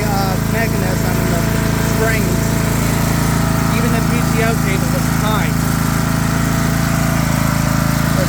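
Craftsman LT3000 riding lawn mower engine running on its first startup of the year, a loud, steady low hum with an even idle, while a person talks over it.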